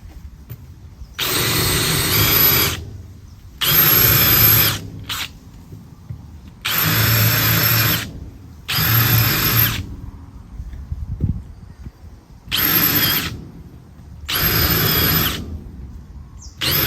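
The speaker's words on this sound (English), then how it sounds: "Pre-drill for the batten screw, because you just will not screw through seasoned hardwood." A power drill whines in six loud, close bursts of a few seconds each, drilling pilot holes in seasoned hardwood, separated by short pauses.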